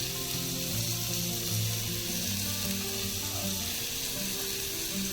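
Garlic cloves sizzling steadily in hot oil in a pan for a Marathi-style chitruk wild vegetable dish, a continuous close crackling fry with no talk.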